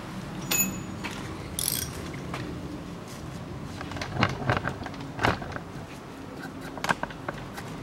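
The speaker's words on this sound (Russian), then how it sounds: "Что-то третий болт откручиваю, он не шевелится." Close-up ratchet clicks and metallic clunks come from work on a stuck bolt of the air-conditioning compressor on a Volkswagen Passat B6, sounding in irregular short bursts over a background of steady noise.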